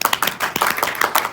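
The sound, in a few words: meeting audience applauding a film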